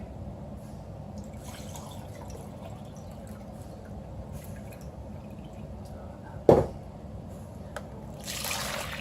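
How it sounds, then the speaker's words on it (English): Water being poured by the cup for homemade dusting and baby wipes, a low continuous trickle with light drips, then a sharp knock of a cup or container and a brief brighter splash near the end. "Okay, so I'm going to need 3 cups of water."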